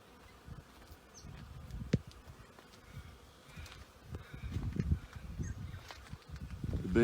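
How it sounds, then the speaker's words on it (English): Bees making cactus honey buzz softly around the area in early morning, a low steady hum with occasional louder passes close by, outdoors and without talk. "The bees are hard at work"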